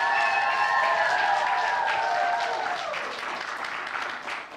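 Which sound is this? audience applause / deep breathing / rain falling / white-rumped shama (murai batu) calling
audience applause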